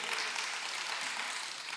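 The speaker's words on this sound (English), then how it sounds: "Give her a clap, everybody." An audience applauds at a gathering, a steady wash of many hands clapping at an even level throughout a short stretch.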